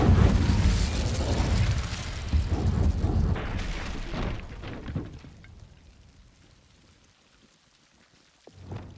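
Incendio fire spell cast in Hogwarts Legacy, a loud burst of crackling, roaring flame that holds for several seconds and then fades away, with a faint thump near the end.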